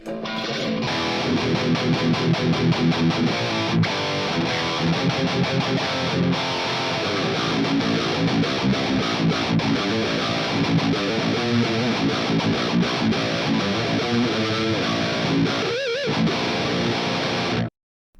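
Heavily distorted electric guitar through an STL Tonality Josh Middleton amp simulator plays a dense, continuous chugging riff with driving rhythm, loud and saturated, cutting off abruptly at the end.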